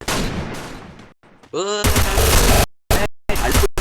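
Bursts of gunfire from a shooting video game, loud and close, broken by short silent gaps and a brief tonal sweep, with a voice talking over parts of it.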